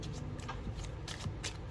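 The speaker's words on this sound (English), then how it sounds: "Let me shuffle this one more time." A small Lenormand oracle card deck being shuffled by hand, a quick run of soft, close riffling flicks and rustles that repeat through the clip with no talking.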